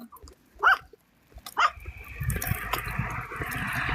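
A dog barks twice on icy ground, two sharp, separated barks followed by a muffled rustling and wet scraping noise.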